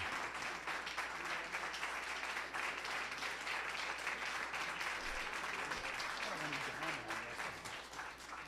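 Audience applause at a board meeting, a steady wash of many hands clapping that fades slightly at the end.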